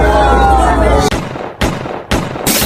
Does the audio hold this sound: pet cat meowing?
no